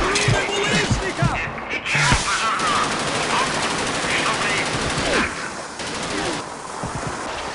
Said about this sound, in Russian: Пулемет!